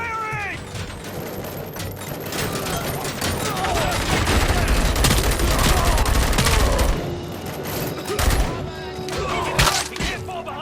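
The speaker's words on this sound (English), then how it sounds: "Keep firing!" Sustained gunfire rattles through a combat sequence in the video game Robocop: Rogue City, loud and continuous with dense bursts and a busy mix of effects, with voices and other noises mixed in.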